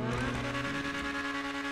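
A sports car engine in GTA Online, fitted with a maxed-out engine and upgraded exhaust, revs loudly and steadily with a strong buzzing drone throughout the brief burst.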